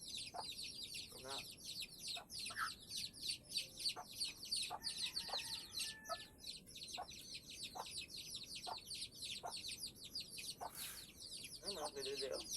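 Chickens cluck repeatedly in short bursts, with a rooster-like call and background chirping; a voice murmurs faintly at times.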